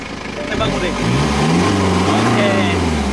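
A modified BMW 1 Series 120d diesel engine cranks over, catches and settles into a loud idle, then its pitch rises as it revs steadily, heard up close.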